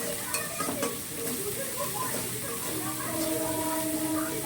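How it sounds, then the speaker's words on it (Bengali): Spice paste fries in a pan for a Bengali magur fish curry with potatoes, giving a steady low sizzle with faint scraping of stirring, fairly quiet and continuous with no talk. "লাল লাল করে ভেজে নিতে হবে মশলাটা"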